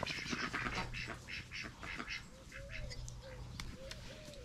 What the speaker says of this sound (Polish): Gucia, straszysz mi kaczki.